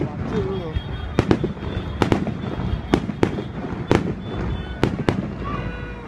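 Fireworks burst over Cửa Lò on the night of 30 April, with about ten sharp, loud explosions spaced irregularly and a steady murmur of crowd chatter underneath.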